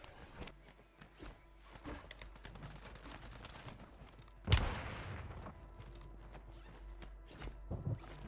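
Gunfire in the game Warzone 3 with the MTZ 762 and WSP Swarm loadout, a dense clatter of shots and footsteps under battle noise, with one loud close burst in the middle and sharper hits near the end.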